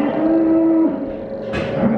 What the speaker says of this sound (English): There's a bull right here. This is a bull.